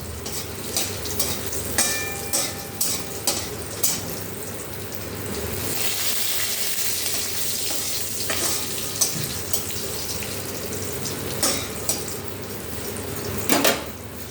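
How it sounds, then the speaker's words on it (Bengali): Tomato and green chili paste frying in oil with black cumin, sizzling steadily in a pan over several seconds, with intermittent louder bursts and spatters and scattered utensil clinks and stirring, no voices. "এই যে টমেটো আর কাঁচা লঙ্কা যেটা বাটা আছে এটা দেবো।"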